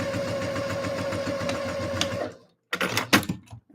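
A sewing machine stitches two garment pieces, sizes 7 and 6, at once in a batch, running in a steady fast mechanical rhythm for about two seconds before stopping, then a few short clattering bursts follow.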